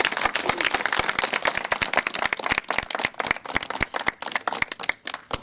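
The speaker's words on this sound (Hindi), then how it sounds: "परमेश्वर को जोरदार ताली मार के स्वागत करते हैं" Loud, energetic clapping from a group at a wedding ceremony, dense and continuous with sharp individual claps standing out, close by and without speech.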